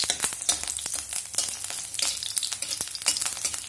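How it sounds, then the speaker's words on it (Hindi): Garlic and dried red chili fry in hot oil, giving a dense, steady crackling sizzle with sharp pops throughout, close and fairly loud, with no voices. "गार्लिक को गोल्डन करके फ्राई कर लेंगे"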